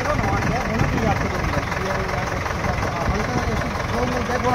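A JCB backhoe engine runs with a steady low rumble throughout, close and constant, while someone talks over it.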